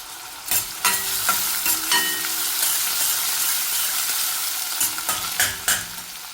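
Crushed ginger and garlic sauté in a pan for a methi dal, a steady bright sizzle running throughout with irregular scraping knocks of a spatula stirring, louder bursts near the start and end.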